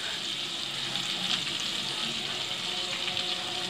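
Ginger-garlic and raw cashews frying in a pan for an egg curry, giving a continuous close hiss and crackle of hot oil that holds steady throughout without talk.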